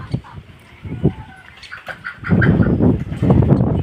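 Pigeons on a small farm give a few soft, scattered calls close by, followed by a denser burst of rustling and flapping movement.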